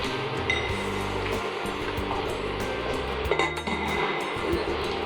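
A lid is set onto a cooking pot of simmering hilsa fish pulao with coconut milk, giving clinking metal-and-glass contacts and a few small knocks over a steady kitchen hum, close by.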